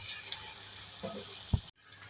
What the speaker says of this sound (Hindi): हम इस पेस्ट के साथ गोश्त को जो है फ्राई करेंगे